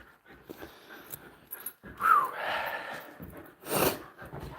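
A hot dog pants and snorts up close in humid outdoor weather, quick ragged breaths and huffs coming in uneven bursts, fairly quiet with background hiss.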